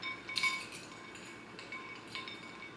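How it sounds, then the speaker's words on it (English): A metal fork clinks against ice cubes in a glass, with a few bright taps and rattles close by, the loudest near the start and softer ones later. "Forks don't really do too well with these ice cubes."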